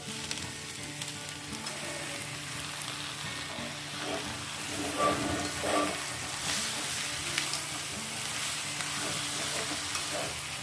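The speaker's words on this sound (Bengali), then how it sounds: "এবার ম্যারিনেট করে রাখা চিকেনটা আমি এটা দিয়ে দেবো।" Marinated chicken goes into a pan of onions fried until reddish, giving a steady, close sizzle with soft stirring scrapes and a brief swell of frying noise midway.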